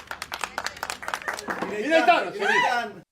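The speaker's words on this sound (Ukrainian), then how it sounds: "Вони спостерігали за поверненням рідних у прямому ефірі та аплодували" Families watching the live return of hostages held since October 7, 2023, break into a short burst of clapping, and excited voices then rise over it.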